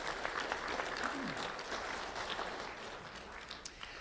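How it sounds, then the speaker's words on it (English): An audience claps for the school board at a Do the Right Thing awards event, fairly faint but steady applause from a crowd with a few murmured voices underneath. "Let's have a round of applause for the school board and Dr."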